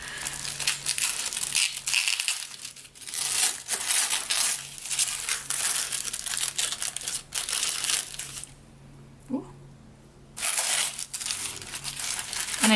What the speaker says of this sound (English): I'm just going to tear it open.